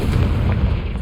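A Confringo fire spell explodes in a goblin camp in Hogwarts Legacy, a short, close, booming burst with a dense low rumble that fills the whole moment.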